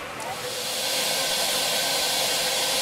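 Steam locomotive UH 102 of the Bregenzerwaldbahn narrow-gauge line rolls slowly toward its train, giving off a loud, steady, broad hiss of escaping steam close by that swells slightly and carries on without a break.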